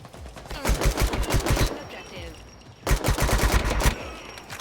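Automatic gunfire in the video game La Quimera, two long bursts of rapid loud shots separated by a short lull, close and dense.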